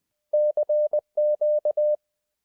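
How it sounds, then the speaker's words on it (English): Morse code plays as clean, steady electronic beeps of one pitch, two groups of long and short tones separated by a brief gap, sounding alone against silence. "You've probably seen Morse code written as a series of dots and dashes, and it sounds like this."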